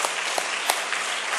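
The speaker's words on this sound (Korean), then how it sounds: "우리 박수로 격려하겠습니다." A church congregation at a Wednesday service applauds a class's mime performance, with even, continuous clapping at moderate volume and no talk.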